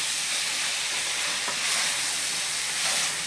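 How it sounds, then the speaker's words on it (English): Seasoned potatoes sizzle steadily in a hot pan and are stirred, with a constant close frying hiss and faint scraping through the whole stretch and no talk. "Stir very well. Make sure the seasonings are well mixed."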